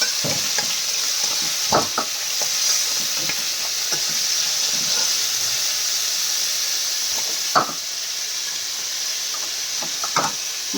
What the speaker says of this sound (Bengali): মাছটা হয়ে গেছে ভাজা।